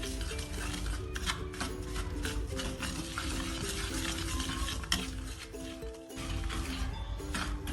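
Cocoa powder, sugar, cornflour and salt being stirred together in a bowl, a steady, dense scraping and rustling that runs throughout at an even, fairly loud level, with no voices.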